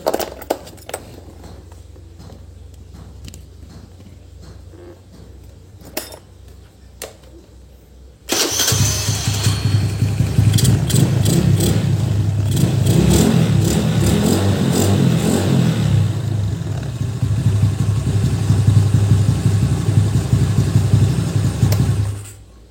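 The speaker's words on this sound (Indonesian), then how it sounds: "Udah dipasang, kita tes starter." A motorcycle engine fitted with a KNZ iridium spark plug is started after a quiet stretch, then catches and runs loudly with steady revving close by for the rest of the clip.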